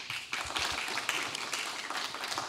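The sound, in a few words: audience applause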